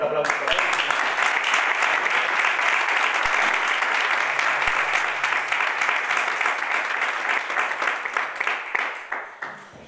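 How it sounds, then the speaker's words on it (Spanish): Loud, sustained audience applause at a local tribute in Tarifa, a dense wash of clapping that runs throughout and gradually thins and fades toward the end, with no talk over it. "fue este aplauso. Fuerte aplauso."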